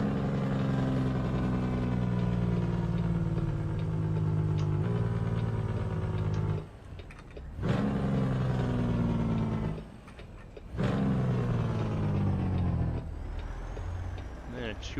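A Detroit Diesel 12.7 liter truck engine from a video game sound mod drones steadily and loudly throughout, with two brief dips in level, likely gear shifts, and a voice talking over it.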